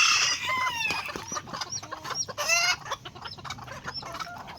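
Chickens cluck and chirp in quick, overlapping bursts close by, with higher chick peeps mixed in and a short crow-like call, over quiet background with occasional soft human sounds.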